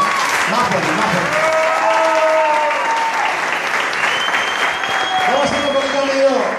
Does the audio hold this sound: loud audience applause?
yes